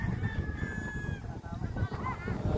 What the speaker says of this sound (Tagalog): ito pala yung aming manukan